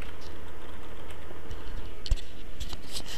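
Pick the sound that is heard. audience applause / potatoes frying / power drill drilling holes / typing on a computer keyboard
typing on a computer keyboard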